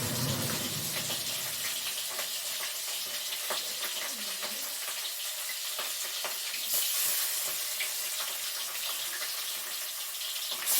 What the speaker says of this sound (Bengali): পাবদা মাছ খুব ফাটে, তো এই জন্য খুব মানে তেলটাকে খুব গরম করে কড়াইটাকে তারপরে দিলাম।